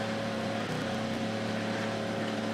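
Le Mans endurance race car in the pit lane, heard as a faint steady engine drone with a hum, moving at limited pit speed, distant and low in level.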